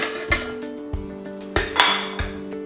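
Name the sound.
creaming butter and sugar in a mixing bowl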